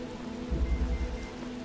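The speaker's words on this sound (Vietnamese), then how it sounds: "trời mưa" Rain falls in The Talos Principle, a steady patter with a low rumble swelling briefly in the middle, heard alone without voices.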